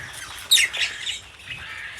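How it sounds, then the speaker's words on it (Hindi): Pet parrots give a sharp, loud squawk, followed by softer chirps and rustles, close by over a quiet background. "तो ये हमारे तोते बैठे हैं।"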